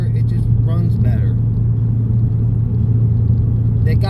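A Ford Mustang with a spark-cut tune idles in a deep, steady rumble close by, with faint crackling exhaust pops from the rear; someone speaks over it.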